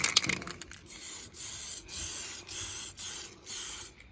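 Bursts of spray paint coat a Baja 5T RC car body yellow, a steady hissing aerosol repeated in several even pulses about half a second apart, close and alone with no talk.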